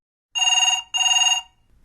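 A telephone rings in two bursts of bright, trilling electronic bell tone, each lasting about half a second with a short gap between them, loud and clear against an otherwise silent background.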